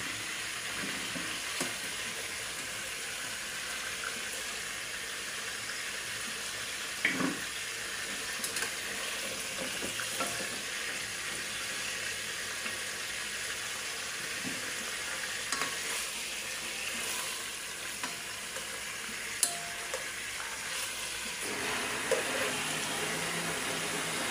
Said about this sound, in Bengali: মুরগির পিসগুলো আগে তেলের মধ্যে ভাজা নিব